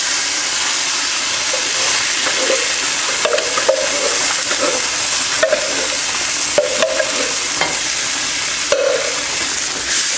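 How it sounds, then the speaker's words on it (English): Onions frying in a pan for a Ugandan tuna pasta sauce, a loud continuous sizzle with occasional stirring scrapes and clicks, close and alone. "You mix it in."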